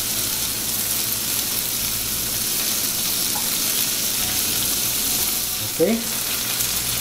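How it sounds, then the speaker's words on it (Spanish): Garlic frying in a pan and being stirred gives a loud, steady sizzle that runs throughout, with a brief scrape of the utensil near the end and one short spoken word. "Hay que estar volteando el ajo para que no se nos queme."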